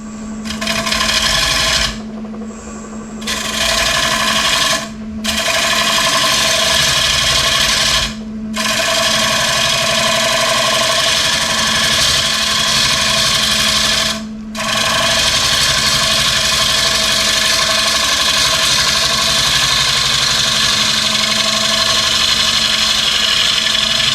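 A wood lathe facing a walnut cake stand: a loud, steady grinding rasp of the cutting tool over a constant motor hum, with four brief gaps where the cut lifts off before resuming, then a long unbroken stretch.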